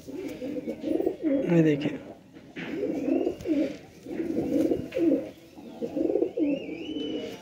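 Pigeons kept by a hobbyist coo in repeated low, throaty bursts close by as they are handled, with someone talking over and between the calls.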